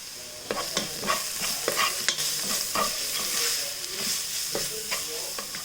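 A pot of spiced base with turmeric, black pepper, garam masala and salt is stirred, a spoon scraping and clacking in irregular strokes over a steady soft sizzle.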